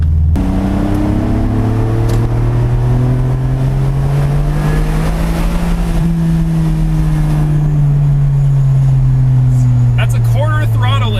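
A Ferrari 575 engine revs and pulls through the gears, a loud sustained tone rising then easing across the whole stretch, with a voice speaking over it near the end.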